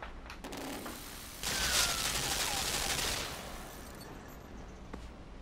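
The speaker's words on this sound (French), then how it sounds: "je peux faire en sorte que la machine du dessus tire sur la machine du bas" In a video game, one machine fires on another below it, giving a loud burst of rapid mechanical gunfire and whirring that runs about two seconds and then tapers into quieter clatter.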